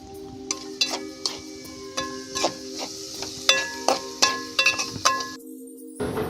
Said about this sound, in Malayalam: ഈ അരിഞ്ഞു വെച്ചിരിക്കുന്ന സവാള ചേർത്ത് ഇളക്കി കൊടുക്കാം